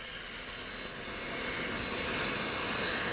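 Steady jet aircraft engine roar as a private jet arrives at Tampa International Airport, a continuous broadband rumble with a thin high whine, swelling slightly louder and holding at moderate distance.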